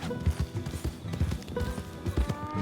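Horse hooves galloping in the video game Red Dead Redemption 2, a steady rapid clip-clop rhythm of muffled thuds close by, with faint background music and no talk over it.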